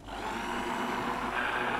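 Blender steadily mixing a glaze for a Snickers entremets dessert, a continuous moderate whirring hum with no pauses, heard alone throughout.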